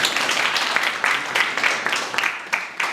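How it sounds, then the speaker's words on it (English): Applause for a judge being welcomed at a Swami Vivekananda Jayanti event, a steady patter of many hands clapping with a few louder swells, fairly close and without speech. "Please welcome Mrs. Bhavna Godara ma'am with a huge round of applause."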